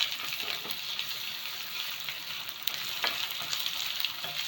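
Cashews and asafoetida frying in oil for vegetable khichdi produce a steady, hissing sizzle with occasional crackles and stirring taps.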